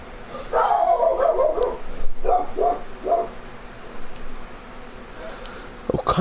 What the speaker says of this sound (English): Oh, come on, you dog. No need to bark.